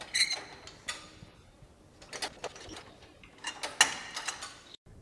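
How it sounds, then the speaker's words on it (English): Lever mechanism on a Toyota Land Cruiser camper vehicle worked up and down, giving a series of quiet metallic clicks, ticks and rattles scattered over several seconds, close by with no talking. "push this little lever down, and then the same as up with the big lever and up and down motion."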